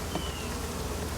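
A honeybee swarm drones around a hive box fitted with wax-covered frames, a dense, continuous buzz close by and fairly loud, with no voices over it.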